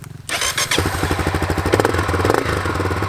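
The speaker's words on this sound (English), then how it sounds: "You start the bike, pull the clutch in, shift into first gear. Now give it a little bit throttle." A Honda CRF250F dirt bike catches after a brief crank and settles into a loud, close, rapid single-cylinder putter, the revs rising slightly with a blip of throttle.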